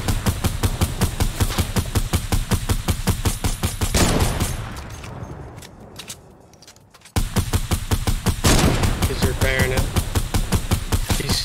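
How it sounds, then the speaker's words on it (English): Rapid, evenly spaced shots hammer away in a multiplayer shooter video game, a loud automatic rhythm that pauses for a few seconds before resuming, while players talk over the fire. "He's sniping at us."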